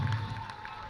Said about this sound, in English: give a strong and loud applause to His Excellency the President